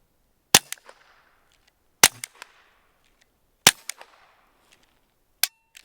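Three sharp, evenly spaced gunshots crack out outdoors, each trailed by faint ticking impacts of rounds hitting the dirt, with a fourth lighter pop at the end and silence between.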